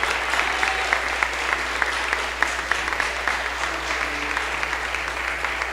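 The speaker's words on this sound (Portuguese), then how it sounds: "Aplauda Jesus bem forte" A church congregation claps hard and continuously during a worship service, a thick, even roar of applause with scattered crisp claps, steady in level and a bit softer, with faint musical tones underneath.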